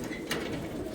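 Madrasi pigeons with patterned chhatri markings coo softly in a steady flock murmur, partly buried under broadband noise, with one brief brighter burst near the start.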